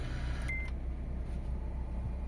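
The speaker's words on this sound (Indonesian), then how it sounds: "Dan di sini saya coba nyalakan AC-nya teman-teman." One short electronic beep sounds as the air conditioning in a 2012 Mazda 2 is switched on, over a steady low hum of the running car's engine and fan, with no voices.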